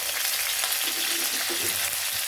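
Mustard seeds, urad dal, dried chili and curry leaves fry in hot oil for tempering, giving a close, steady sizzle with small crackles and pops and no talk.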